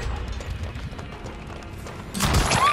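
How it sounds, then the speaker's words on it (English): A gunshot rings out in a video game as a single sharp, loud burst near the end, following a quieter stretch of muffled game background. "I just heard a gunshot."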